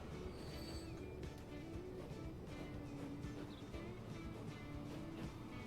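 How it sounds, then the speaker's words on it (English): An iron ore train passes in Transport Fever 2, a steady rumbling roll with faint wheel squeal, heard continuously through the whole stretch. "It's probably our other iron ore train coming through that's causing the"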